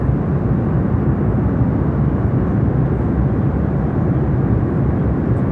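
Inside a passenger aircraft in flight, the engines and airflow make a loud, constant cabin roar, an unbroken low rumbling drone with no pauses or voices.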